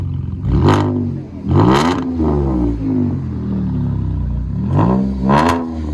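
Straight-piped Chevrolet Caprice with true dual exhaust barks through about four sharp, loud rev blips spaced across the stretch, heard close up and alone over a rumbling idle.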